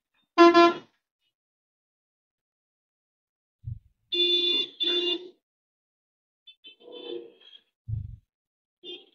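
Vehicle horns honk in city traffic at a green signal, with a loud nearby blast, then two quick beeps and fainter horns farther off, separated by silent gaps.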